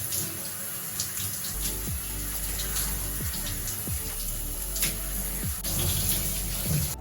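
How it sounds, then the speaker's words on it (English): Shower spray running lukewarm water over hair, a steady broadband hiss of water flowing continuously and fairly loud, with a few low thuds and shifts in the stream. "open the shower and turn the lukewarm water"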